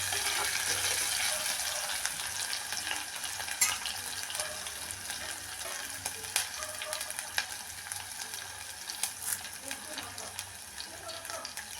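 Crushed garlic and spices frying in a pan for an anchovy fish curry, with a continuous close sizzle and scattered stirring clicks, and faint background noise beneath.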